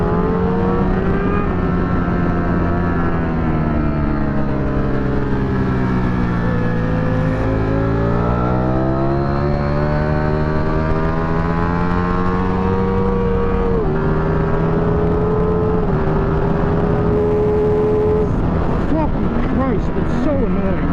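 A 2023 Ducati V4 SP2 motorcycle engine roars at wide open throttle on a track, holding loud and steady with its pitch sweeping slowly up and down, and a voice is heard over it.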